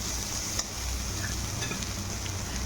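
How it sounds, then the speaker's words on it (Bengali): Sliced bitter gourd with onion and dry ground spices sizzles in a pan, giving a steady close hiss with a few soft scraping stirs. "এভাবে একটু ভাজা ভাজা করে নামিয়ে নেব"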